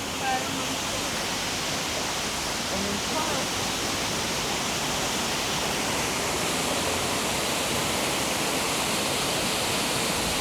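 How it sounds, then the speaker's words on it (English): A waterfall gives off a steady, full-spectrum rushing roar that stays even and unbroken throughout, heard from a moderate distance outdoors. "Oh yeah, waterfall."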